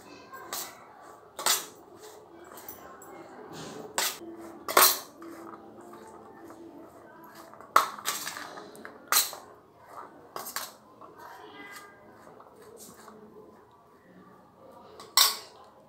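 A spoon stirs spiced sweet corn masala with lemon juice in a steel bowl, giving irregular metallic clinks and scrapes spaced every second or so, close and clear, with no talking.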